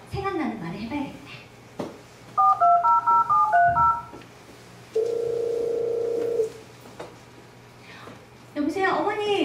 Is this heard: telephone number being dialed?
yes